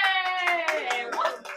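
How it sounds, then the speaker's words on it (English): A class claps for a student who won a prize for positive behavior, with short, quick, close handclaps under a bright voice cheering over them. "Round of applause."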